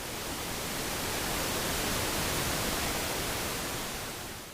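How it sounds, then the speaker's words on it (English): Steady pink noise from a DIY noise synthesizer module, a soft, even hiss weighted toward the low end, running continuously at moderate level with no talk. "This module also produces pink and blue noise."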